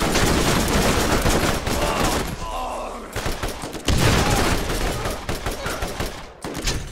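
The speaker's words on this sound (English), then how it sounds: "That freaking assault rifle is so loud." Assault rifle fire in the shooter game Borderlands, loud close rapid bursts with brief pauses between volleys and heavy impacts mixed in, with voices talking faintly underneath.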